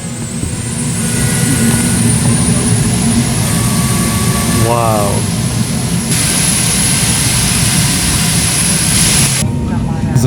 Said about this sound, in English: they don't hear the engines roaring because they are loud